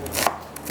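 An onion is chopped with a knife on a board while chicken shahi handi is being prepared, a few quick close cuts in a short burst with no talking.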